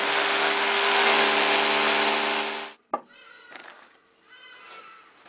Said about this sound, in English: Using an 8mm masonry drill bit, we are now ready to drill the holes.